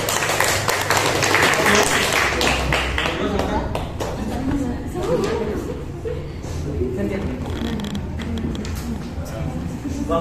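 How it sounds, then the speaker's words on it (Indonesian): A classroom group claps during a school teaching session, a busy patter of hands running throughout, mixed with voices and some chuckling. "Tepuk tangan dulu."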